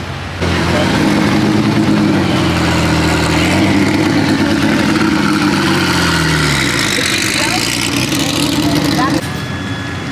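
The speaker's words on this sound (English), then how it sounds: "There goes the M6 GT, the first road going McLaren" Engine of a McLaren M6 GT, the first road-going McLaren, running and revving at Pebble Beach amid a crowd, loud and close, with pitch rising and falling and people talking throughout.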